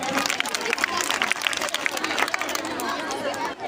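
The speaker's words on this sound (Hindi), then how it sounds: "जोरदार तालियों से स्वागत।" Loud, dense applause from a crowd greeting a performer at a college Independence Day function, steady throughout with chatter and crowd noise mixed in.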